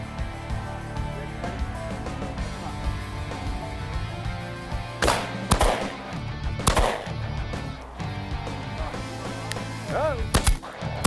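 Several sharp gunshots ring out at scattered intervals during a bird hunt at a plantation, over a steady low engine hum and background noise.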